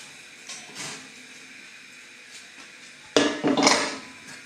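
A baked cherry clafoutis is lifted out of an oven with a few light clinks, then louder clattering knocks of the dish and oven rack near the end.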